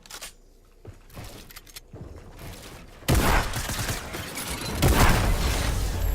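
Heavy gunfire from a Fortnite match, with shotgun blasts in close succession. A quieter, sparse stretch comes first, then a sudden loud, dense burst of shots and mechanical clatter sustained to the end.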